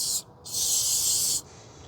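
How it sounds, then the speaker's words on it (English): Blue Toyota paint sprays from a can onto car battery terminals on a 2005 Toyota Corolla 1.8: a brief hiss, a short pause, then a longer steady hissing burst, close and loud. "and spray it on the terminals"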